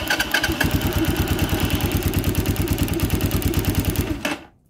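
A motorcycle fitted with a KRY 200 ignition upgrade fires up and settles into a rapid, even chugging idle for about four seconds before stopping abruptly; close and clear, no voices.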